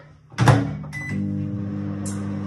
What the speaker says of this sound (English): And we're going to melt that in the microwave.